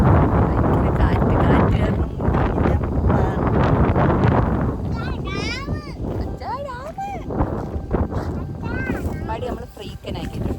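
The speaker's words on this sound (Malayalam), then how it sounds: "ഭയങ്കര കാറ്റ്." Strong wind at a hilltop viewpoint near the Thirumalai Kovil temple in Tenkasi roars and buffets the microphone in a loud, continuous rush, while people talk over it in the second half.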